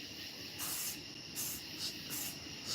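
Short hissing bursts of spray paint on a chainsaw-carved wooden cardinal, coming in several quick pulses close by.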